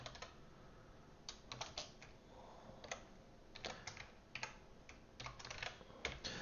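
Rapid irregular keystrokes on a computer keyboard while code is typed, close and fairly quiet, clustered in bursts with short pauses and no talking.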